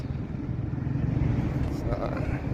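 A motorcycle passes on a road in Bahrain, a steady low engine rumble that builds slightly and stays fairly close throughout, with people talking over it.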